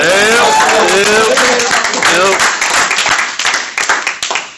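A comedy club crowd breaks into loud applause with some cheering, close and full at first, then thinning into scattered, individual claps that fade out toward the end.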